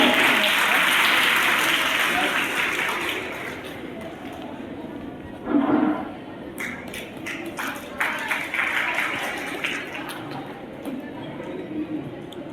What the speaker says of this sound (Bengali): সকলে জোরে করতালি দাও